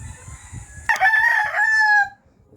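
Pet bulik chickens with pure green legs: a loud, close rooster crow bursts in and holds for about a second before cutting off, over soft low clucking and scratchy farmyard rustle.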